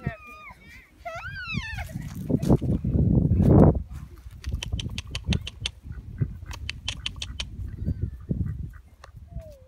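Ducks quack and chatter nearby amid rustling and footsteps, with high squeaky voices and people talking over them.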